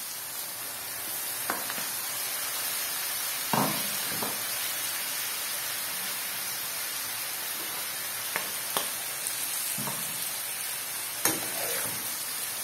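Turkey liver and onions fry in a pan with a constant loud sizzle and hiss, broken by several scraping knocks as the mixture is stirred, with no one speaking.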